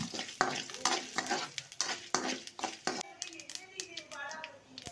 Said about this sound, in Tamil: காஞ்ச வத்தல் மிளகா கடுகு இதுகளை சேர்த்துக்கணும்